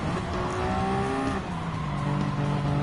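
A Toyota GR010 hybrid race car in Gran Turismo 7, its engine droning with rising and shifting tones and faint tire squeal, loud and close throughout with no talk.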